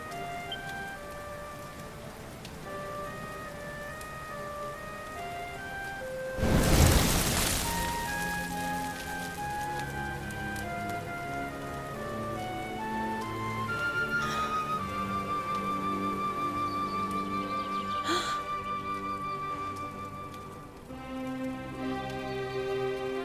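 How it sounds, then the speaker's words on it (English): Steady rain falls in a Dragon Quest XI scene, a dense even patter that runs throughout under musical tones, with a brief louder rush partway through. "Looks like the rain's dying down."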